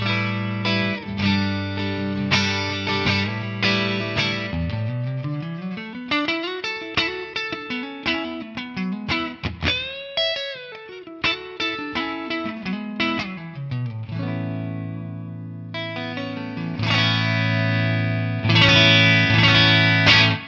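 Electric guitar played through a captured 1963 Fender Vibroverb amp tone, a funky fusion passage of clipped chords and sliding single-note runs with light drive and effects, ending in sustained full chords, loud and close.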